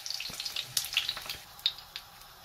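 A cheese-filled tortilla fries in hot oil in a pan, a close, crackling sizzle with quick scattered pops and spits in an irregular rhythm.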